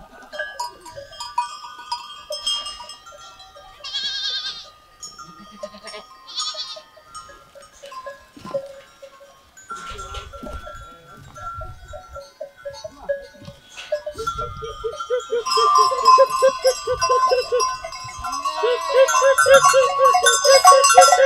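Goats bleat repeatedly on a farm where a lamb is also kept, with calls rising and overlapping into a loud, busy chorus toward the end, alongside faint bell clinks.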